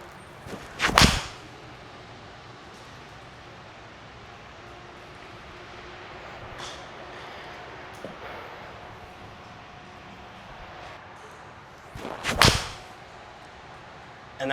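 Two crisp iron strikes on golf balls during a club fitting for new irons, each a sharp whip-like crack with a brief swish, about eleven seconds apart over a quiet indoor background.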